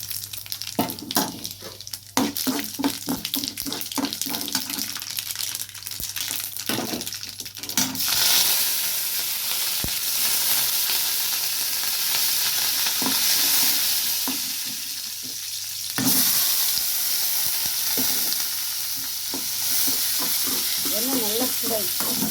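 Urad dal sizzles in hot oil for a potato poriyal, with loud steady frying, scattered stirring clinks and scrapes, and a sharper surge of sizzle partway through.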